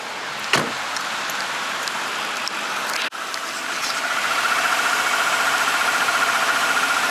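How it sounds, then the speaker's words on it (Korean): A 2006 Infiniti M45 idles on the Bukak Skyway with a steady, even engine hum heard from the cabin, broken by a sharp click early on and a door-like thump midway, then a slightly louder, smoother idle. "엔진 소리도 굉장히 좋고요."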